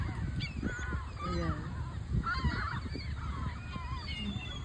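Geese honk repeatedly while being fed alongside pigeons, several loud, overlapping calls near the listener, with a brief spoken word heard among them.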